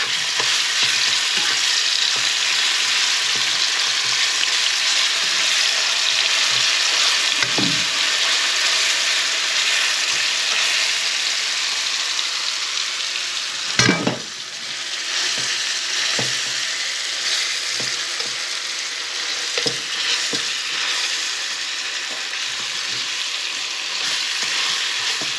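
Garlic fries in a pan for sinampalukang manok with a constant close sizzle, broken by occasional clinks and scrapes of a utensil stirring, one louder clatter midway, no talking.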